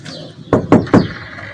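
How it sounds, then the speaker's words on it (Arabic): Three sharp knocks land on a door in a quick, evenly spaced row, loud and close, with a quiet room around them. "مين على هذا ما خبط على الباب برا؟"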